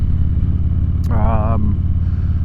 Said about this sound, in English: If you can actually hear the rumble of the pipes, because they're loud in my ears.